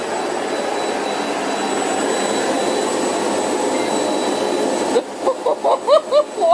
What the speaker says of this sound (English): She's in the fitting room with the vacuum cleaner on because it's warm.